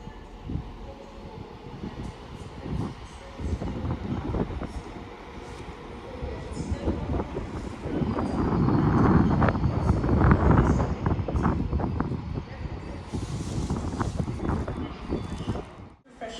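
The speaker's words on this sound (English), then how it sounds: "we have a double pair of Transpennine Express Class 185s passing through now" A pair of coupled TransPennine Express Class 185 diesel multiple units passing through Stockport station, a loud building rumble and rattle of wheels and engine that swells mid-pass and then fades, with wind buffeting and a voice speaking over it.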